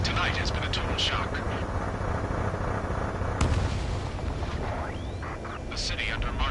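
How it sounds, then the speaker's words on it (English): Gunfire and jet roar from the video game Ace Combat 7, a wartime city scene where a dense rumbling roar carries sharp cracks and whooshing fly-bys, with a voice talking over the noise. "Gunfire and the roar of jets echoing through the streets."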